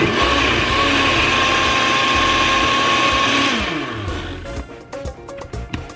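Blender whirring steadily as it purées a jalapeño ranch dip with cilantro and extra jalapeños, loud and continuous for about four seconds, then winding down into uneven clatter and motor fade.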